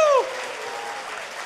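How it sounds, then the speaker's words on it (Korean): Audience applause at a crypto currency event in Korea, a dense steady wash of many hands clapping that starts just after a brief tone and holds evenly to the end. "야, 박수 한번 쳐 주세요."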